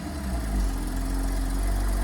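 A Porsche 718 Cayman S sits idling just after a cold start, its engine giving a steady, deep, even rumble at close range with no voices over it.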